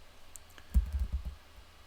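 Brief burst of computer keyboard typing, a search being entered, a quick cluster of soft, close clicks lasting about half a second.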